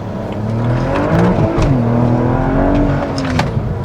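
A loud BMW E92 with an N54 engine and hybrid turbos roars close by, its pitch climbing as it accelerates, then easing briefly before pulling hard again.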